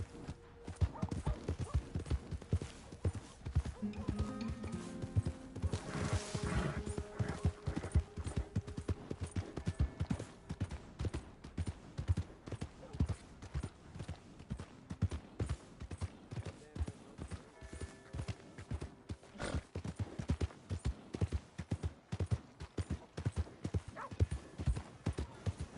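Horse hooves clip-clop in steady, continuous rhythm throughout, loud and close, in Red Dead Redemption 2, with a layered game soundscape underneath.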